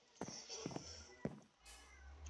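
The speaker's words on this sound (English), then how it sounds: "I apologize if you can hear my cat." A house cat meows a few times at night, the cries fairly close and rising over quiet room tone, with faint shuffling movement between them.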